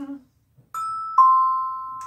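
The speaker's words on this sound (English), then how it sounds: "It's a doorbell, but it's really some tone bells." Tone bells struck in a two-note doorbell pattern, each clear ringing tone sustaining and slowly fading, close and alone after a brief vocal sound at the start.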